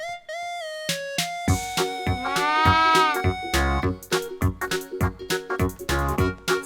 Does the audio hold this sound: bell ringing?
no